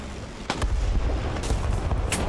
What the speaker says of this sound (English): blast him one right under his turret